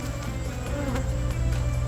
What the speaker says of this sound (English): There's a lot of bees out.